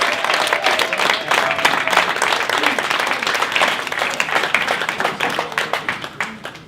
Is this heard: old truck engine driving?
no